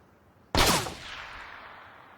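A single sharp, close gunshot in PUBG, a sudden loud crack at about half a second followed by a long fading echoing tail, with no talk.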